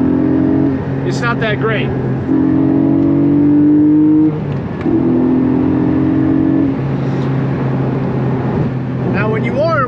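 A Porsche 718 Spyder engine accelerates hard in third gear, its close, loud tone climbing in repeated surges. Someone talks over the engine.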